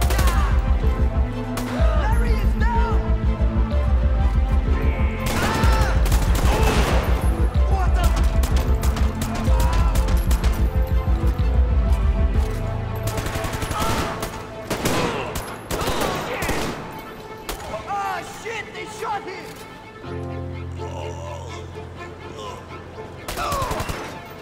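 Gunfire in the game GTA 5, zombie survival apocalypse mode, sounds as loud, sustained bursts of automatic fire with dense rapid shots, then scattered single cracks and explosions, with people talking over it.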